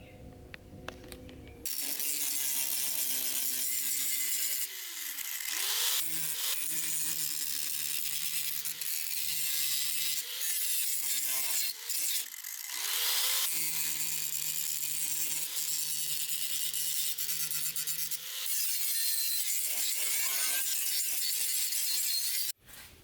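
A power tool fitted with a 36-grit spin-on abrasive disc grinds rusty metal on a 1956 VW Beetle rear corner, harsh and loud up close, running in long bursts broken by brief pauses.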